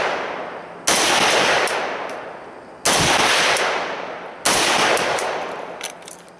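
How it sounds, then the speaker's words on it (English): An AK-47 pattern rifle, an Arsenal SGL 21 fitted with a muzzle brake, fires three loud, sharp shots spaced about two seconds apart, each with a long ringing decay, close and without talk. "as we're shooting the gun"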